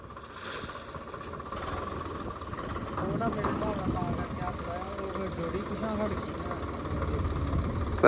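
A steady low tractor engine rumble runs throughout, with a person speaking over it in places.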